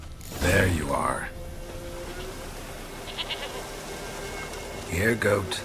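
A goat in The Witcher 3 bleats twice, a wavering cry near the start and another near the end, with quiet game ambience between the calls.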